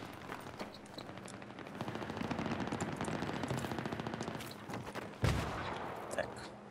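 Rapid bursts of gunfire from a Battlefield 3 match, dense automatic fire with a sharp, loud shot near the five-second mark, set against a continuous battlefield din.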